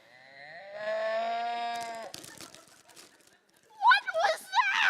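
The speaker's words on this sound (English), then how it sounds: "What was that? I think it was a cow." A cow gives a long, loud moo in a staging of the opera The Love of Three Oranges, followed by rustling and then sharp bursts of excited voices.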